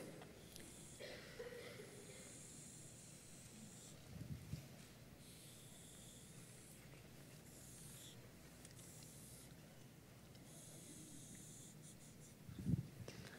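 A pen scratches and squeaks faintly against a board in soft, uneven strokes and pauses, with a small knock near the end and no talk over it.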